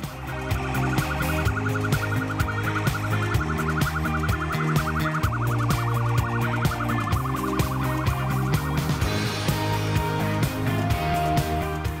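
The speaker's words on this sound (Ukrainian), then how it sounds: "Ось відео з автошляхів європейських країн, де водії на дорозі пропускають карету швидкої допомоги." An ambulance siren wails steadily on a European road for several seconds, its tone rising and falling under a dense bed of music and traffic noise.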